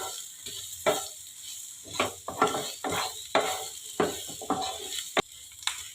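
Drumstick flowers lightly frying in a pan for a mashed side dish, a soft sizzle broken by repeated scraping strokes of a spatula against the pan, close and irregular.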